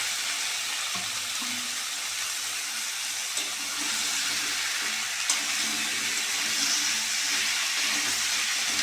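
Cut, washed elephant foot yam and potato pieces drop into hot spice paste in oil, giving a steady close sizzle and hiss with small bubbling pops throughout, no voices.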